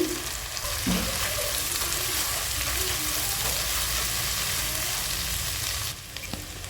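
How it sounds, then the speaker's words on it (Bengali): Garlic and ginger paste frying in a pan, a steady close sizzle with occasional stirring scrapes that drops slightly in level near the end. "এখানে দিয়ে আবার একটু ভেজে নিচ্ছি"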